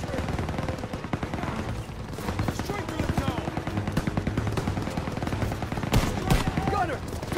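Sustained automatic gunfire from an MG42 machine-gun nest in the World War II shooter Call of Duty WW2, with dense overlapping bursts and battlefield noise under ongoing voices.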